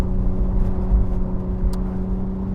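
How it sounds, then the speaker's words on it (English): Steady low rumble and wind buffeting inside a convertible soft-top supercar, such as an Aston Martin Vantage, Ferrari Roma or McLaren Artura, driving with the roof down, a continuous even drone with no voices. "So I get a bit more wind noise, don't you?"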